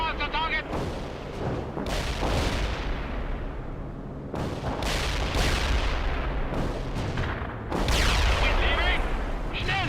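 Dense artillery and gunfire from the real-time strategy game World in Conflict, heavy booming blasts and rapid shots overlapping continuously and loudly, with radio-style unit voices calling out beneath the barrage.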